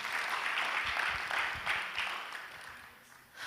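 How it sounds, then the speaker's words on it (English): An audience at a cybersecurity breakout session during a Nairobi tech week claps warmly for a speaker, the sustained clapping fading toward the end before a brief swell. "Again, let's clap."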